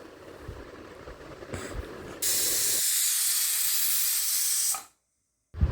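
A pressure cooker holding mangoes, with its weight on, hisses steadily and loudly for a few seconds before falling silent, following quieter kitchen rustling.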